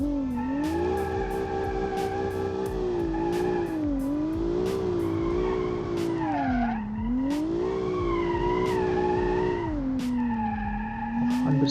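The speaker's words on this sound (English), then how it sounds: "This car has a V6 engine, twin turbo V6 engine, making around 200 horsepower." A twin-turbo V6 car engine of about 200 horsepower in a video game drones steadily, its pitch rising and falling through gear changes, punctuated by sharp clicks, loud and continuous throughout.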